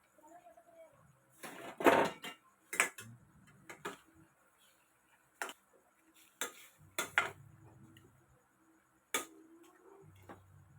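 Scattered metallic clinks and scrapes of a spoon against a cooking pot while stirring banana flower into a curry, irregular and close, with quiet gaps and low background hum.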